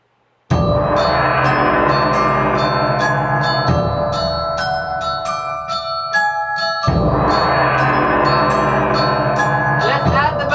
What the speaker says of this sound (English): So we'll add the gong.